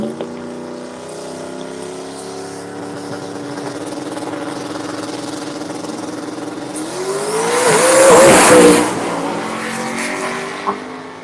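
A drag racing car makes a fast pass at a racing event, its engine a steady loud drone that climbs in pitch and surges to a roaring peak near the end before easing off.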